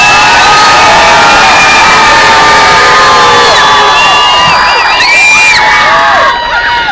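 A large outdoor protest march crowd screams, whoops and cheers loudly and continuously, many shrill voices overlapping at close range before easing slightly at the end.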